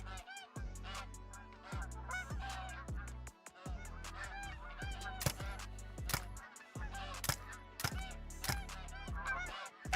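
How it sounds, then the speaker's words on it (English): Snow geese honk over and over in the hunting game Call of the Wild on Askiy Ridge. The loud, overlapping calls come from a flock close by and run without a break for the whole stretch, with no talking. "Look at that beautiful snow goose."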